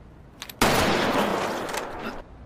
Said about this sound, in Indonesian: frontman ternyata sudah berada di belakangnya dan langsung melepas tembakan peringatan